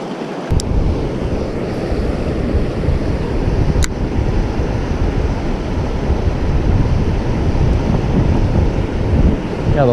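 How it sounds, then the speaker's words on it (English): Strong wind buffets the microphone on a cold-front bass fishing outing, a loud continuous roar of rumbling gusts that lasts throughout with no talk. "the wind's gonna be uncooperative and blow the wrong way here"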